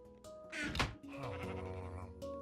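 Bleating of red-dyed sheep in Minecraft, a few short wavering game-style calls sounding close and clear alongside other in-game effects and a dull thunk, with no talking.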